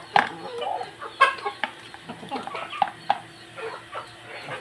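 Microbantam breeder chickens cluck in short, uneven bursts close by, with some soft background noise between the calls.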